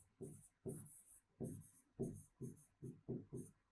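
Chalk or marker writing on a classroom board during a grade six science lesson on weather and climate, a run of about eight short rhythmic scratchy strokes, close and clear with no talking.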